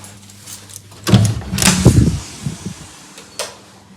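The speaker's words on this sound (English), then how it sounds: "Close that door." A door in a house being moved into place and shut: a short burst of scraping and rattling with a couple of dull knocks, followed by a light click a moment later, fairly close and with no talk.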